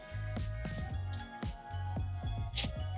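Chilled roasted garlic cloves are squeezed out of their papery skins by hand, giving a run of soft, wet squishes and small sticky pops at close range over a low steady hum, with no talk.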